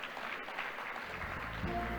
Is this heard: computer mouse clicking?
no